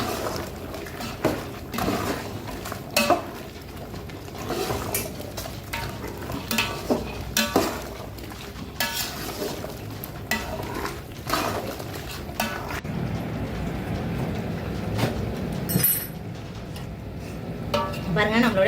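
Chicken with ground pepper masala being stirred in a pan, rough scraping and clattering strokes over a low sizzle, loud and close throughout, with no talk.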